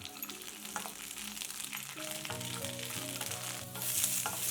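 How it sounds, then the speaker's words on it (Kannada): Large-cut capsicum pieces fry in about a teaspoon of oil in a pan, making a close, steady crackling sizzle with a few soft stirring knocks and a slight rise in loudness toward the end. "ಬಾಣಲಿಗೆ ಒಂದು ಟೀ ಸ್ಪೂನಷ್ಟು ಎಣ್ಣೆ ಹಾಕೊಳ್ಳೋಣ. ಸ್ವಲ್ಪ ಫ್ರೈ ಮಾಡ್ಕೊಳ್ಳೋಣ."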